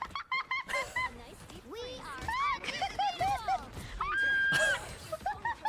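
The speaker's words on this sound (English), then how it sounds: "Seagull popping out." Seagull squawks in a video game, a run of bright, honking calls that rise and fall several times, close and fairly loud over a busy mix of other game noises.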